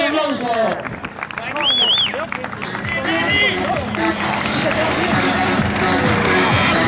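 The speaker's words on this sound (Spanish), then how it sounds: "Fuerte, fuerte ese aplauso." Crowd clapping and cheering at the finish of an obstacle race, loud and continuous with bustling voices, whistles and lively background noise throughout.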